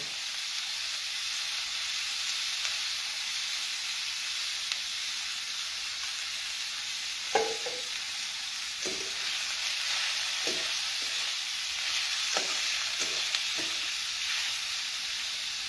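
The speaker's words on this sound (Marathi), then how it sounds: "हा, बघ आता मोहरी टाकते. मोहरी बी टाकायची" Cumin and mustard seeds tempering in hot oil for a kurdai vegetable dish: a steady bright sizzling hiss with a few scattered sharp pops and clicks of spoon against the pan in the second half.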